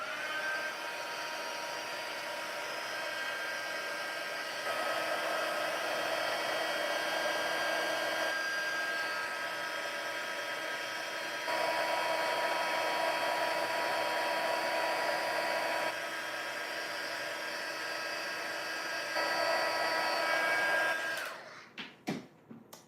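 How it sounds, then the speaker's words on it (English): A heat embossing tool blows steadily and close over embossing powder on a stamped card, a constant whirring fan roar with slight shifts in pitch for about twenty seconds before switching off with a few clicks. "We'll heat emboss that."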